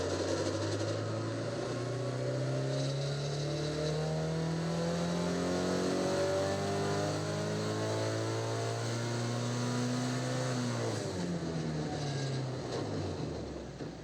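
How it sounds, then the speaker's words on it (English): A car engine on a dyno makes a steady ramp run, revving smoothly from low to high for about ten seconds, then drops back off. The sound is loud, continuous and close, with no talking. "performing our 2 ramp runs to get an idea of the difference between our baseline"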